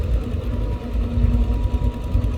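A Caterpillar 320GX excavator's four-cylinder water-cooled turbocharged intercooled diesel engine runs steadily at low revs, a continuous low rumble heard alone at moderate distance while dredging a pond.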